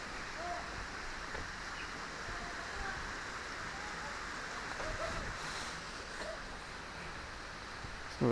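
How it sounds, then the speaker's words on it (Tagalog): Steady rain falls on a mountain forest trail near a small waterfall in Taipei, Taiwan, a soft constant hiss of drops and running water heard alone. "Umuulan kasi eh."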